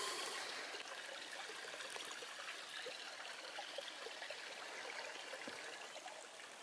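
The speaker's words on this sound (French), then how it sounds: "C'est le ruisseau qui coule en ce moment, étant donné toute la neige qu'ils font." A snowmelt-swollen stream flows over small rocks at the shore of a large lake at Lac-des-Plages, giving a steady, close trickling and babbling rush with no voices.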